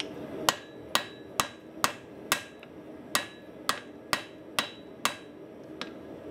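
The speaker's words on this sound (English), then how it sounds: "forging down some of these fullering marks, which are on the inside of the eye" Steady hammer blows ring out on hot steel while a bearded hatchet's eye is forged, about a dozen sharp, evenly spaced strikes at close range, with no talking.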